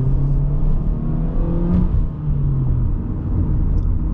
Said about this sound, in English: the 4-cylinder is not quiet either too, when you really want it to make noise